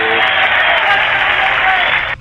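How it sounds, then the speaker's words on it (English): A crowd cheer sound effect plays during a relay race broadcast: a dense, steady wash of applause and cheering, loud and unbroken for about two seconds before cutting off abruptly. "Let's give a crowd cheer for Ryan"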